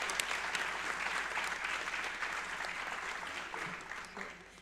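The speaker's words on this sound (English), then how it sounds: "so I think they deserve a very large round of applause" An awards-ceremony audience applauds student athletes with steady, sustained clapping that fades slightly toward the end, heard from within the crowd.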